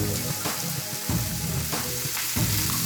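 Burgers smashed onto a hot griddle with about a tablespoon of oil sizzle loudly and continuously up close, with a few scraping pushes of a spatula and no voices.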